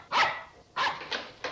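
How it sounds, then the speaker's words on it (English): A dog in an old television sitcom barks in four sharp, unfriendly bursts, the first and second louder and the last two quicker, heard close and alone without talk. "I'd know that unfriendly bark anywhere."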